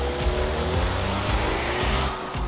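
A 2016 Audi Q3 Quattro Premium accelerates hard toward 60 mph, its engine note a loud, close, continuous drone that holds steady and builds slightly throughout.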